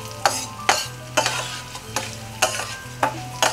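Coriander seeds and urad dal roast in hot oil under a low sizzle, while a spoon strikes and scrapes the pan in a steady rhythm, about seven sharp hits, close by with no speech.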